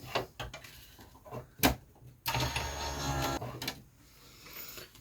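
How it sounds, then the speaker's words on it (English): An electronic craft cutting machine working on an old Christmas card, with short whirring motor runs, clicks and a sharp knock, moderately close in a quiet room. "I can cut that with the machine"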